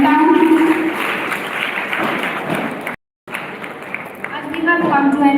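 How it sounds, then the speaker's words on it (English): Applause breaks out among the audience at a school G20 youth summit, a steady wash of clapping that pauses for a moment and then resumes. "Can we please have a huge round of applause for our institution"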